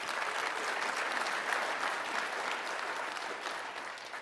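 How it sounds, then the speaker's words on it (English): Audience applause for Jim Inhofe at the 2014 NIPCC climate conference, a steady dense sheet of many hands clapping at even volume throughout, without any voices over it. "let's give him a round of applause for his help for us on all this"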